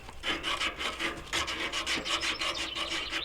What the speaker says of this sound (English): We'll sand that down.